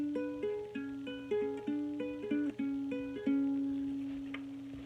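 A ukulele fingerpicked softly in a steady flowing pattern of plucked single notes, shifting between chord shapes, quiet and close with each note decaying gently.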